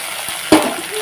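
Spice paste dropped into a pan of lightly browned fried onions for a fish curry, producing a sharp thud and then a hissing sizzle that settles into a soft steady fry, close by.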